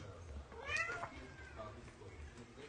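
A cat meows faintly, one brief rising call standing out over a low background hum and soft room noise, fairly distant and quiet.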